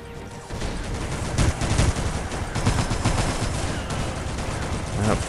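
Machine gun fire in the war game Iron Grip: Warlord: loud, continuous rattling bursts layered with other gunfire, with no break through the whole stretch.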